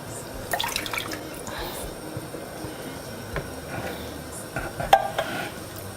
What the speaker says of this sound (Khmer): ចាឥឡូវហ្នឹងនាងខ្ញុំចាប់ផ្ដើមដាក់ខ្ទិះដូងចូល